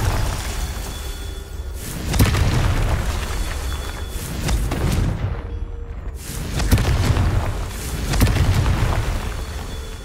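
Confringo fire spells from the Hogwarts Legacy video game bursting as loud booming explosions, several heavy blasts in a row with rumbling tails and a brief quiet gap between them.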